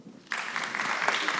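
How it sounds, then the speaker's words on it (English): Audience clapping at a college human rights film festival, a burst of crowd applause that starts abruptly and holds steady, with no one speaking. "please clap for him."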